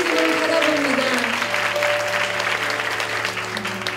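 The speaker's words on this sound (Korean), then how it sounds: "다시 한번 그 주님 앞에 감사의 박수 올려드리겠습니다." A church congregation at a young adults' worship service claps in thanks, dense sustained applause filling the room, with music or sustained tones and some voices underneath.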